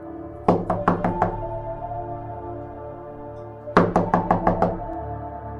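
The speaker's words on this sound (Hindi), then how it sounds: "गेट पर कोई आया और गेट की कुंडी को खटखटाने लगा" A metal gate latch is rapped in two quick bursts of about five sharp, ringing knocks each, separated by a few seconds of stillness, close and clear with no voices.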